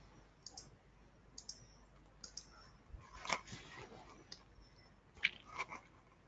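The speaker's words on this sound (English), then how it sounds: "here I can just type the password and log in" Sparse, soft keystrokes on a computer keyboard as a password is typed, with scattered single clicks and a couple of slightly louder taps over a quiet room background.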